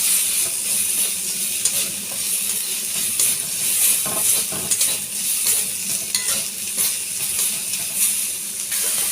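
Potato paste sizzles and fries steadily in a pan, a continuous hissing crackle with occasional stirring, close and fairly loud with no talking.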